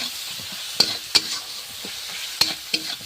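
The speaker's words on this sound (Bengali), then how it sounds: "কাঁঠালের এসব কষা করা হয়ে গিয়েছে" Young jackfruit sautéed with spices in a little oil, heard as a steady close sizzle broken by about four sharp spoon-scrape stirring clicks, with no talk.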